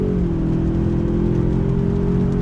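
A 2020 Ford Ranger Lariat pickup pulls on throttle on wet asphalt, its engine giving a steady, smooth mid-pitched drone from inside the cab, close and even throughout the short stretch.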